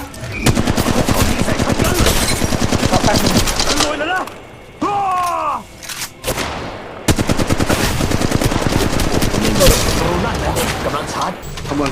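Light machine guns firing in the mobile shooter Apex Legends Mobile, with long dense bursts of rapid shots, a short pause with other game sounds, then more sustained automatic fire, loud and close.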